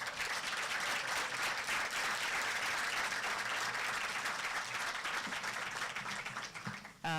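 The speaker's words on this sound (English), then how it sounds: "celebrate with a big round of applause our MBBS class of" An audience applauds the MBBS class of 2026 at a white coat ceremony, with sustained, even clapping from many hands that fills the room and fades slightly near the end.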